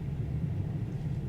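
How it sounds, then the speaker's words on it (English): A Datsun 280ZX engine idles and revs with a steady low rumble, close and continuous, with no one speaking. "let's give her a little rev"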